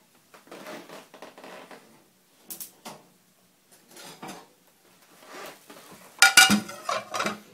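Spanish potato tortilla being flipped in a frying pan, with scattered clinks, scrapes and clatters of the pan and utensils, interrupted by short, quiet gaps.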